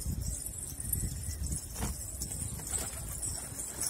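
Pigeons in a loft coo softly over a steady background hiss, with brief bursts of wing flapping and rustling mixed in at close range.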